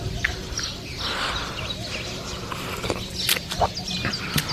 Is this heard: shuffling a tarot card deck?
no